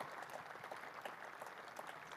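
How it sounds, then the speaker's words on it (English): Steady applause from a cricket crowd as a batsman walks off toward the pavilion during a Derbyshire vs Hampshire one-day match, heard as a faint, even patter of many hands from a distance with no talk. "acknowledges the applause, Brooke Guest, as he makes his way towards the pavilion"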